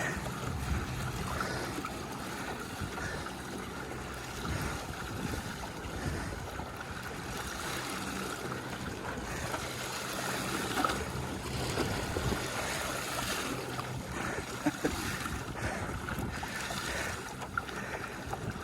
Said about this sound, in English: First wave's about to hit us.